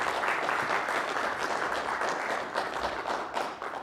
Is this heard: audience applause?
yes